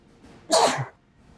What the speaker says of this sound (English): Oh, excuse me, I had to sneeze.